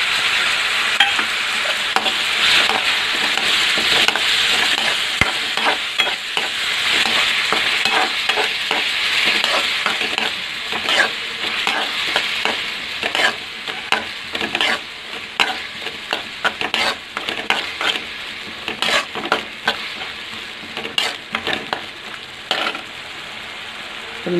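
Tomato paste fries in a pan for cauliflower gravy, a continuous loud sizzle broken by frequent clattering stirs, close up and steady throughout.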